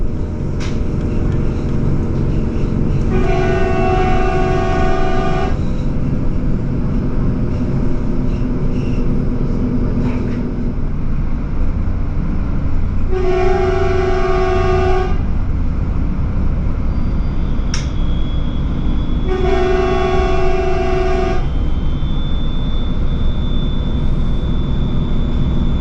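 Three sustained horn blasts from a train on the Central Swabian Railway, each lasting about two seconds, sounding loud over steady running noise inside the moving train as it approaches level crossings.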